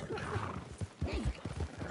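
Horse in the Red Dead Redemption 2 video game, a snorting neigh and whinny with soft thudding hooves, close and moderately loud under a faint game background.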